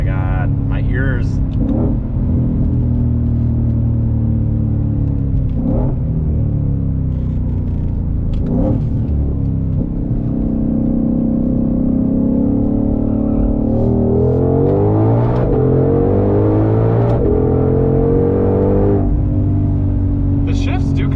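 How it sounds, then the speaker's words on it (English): A 2021 Ford Mustang Shelby GT500 in track mode, heard from inside the car: a loud, deep engine note that rises and falls through repeated revs and shifts while people keep talking over it. "having a good old time listening to rattles and very loud engines"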